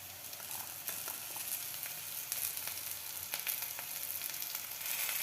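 Onions fry in a pan with a constant crackling sizzle close by, dotted with small pops and light stirring scrapes.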